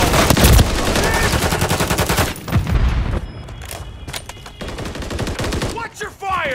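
Rapid automatic gunfire from a Call of Duty: Modern Warfare III Domination match on the Favela map, loud close bursts that give way to scattered shots and distant booms, with brief game-voice shouts mixed in.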